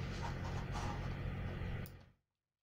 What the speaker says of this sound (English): I have to use the hair dryer for that.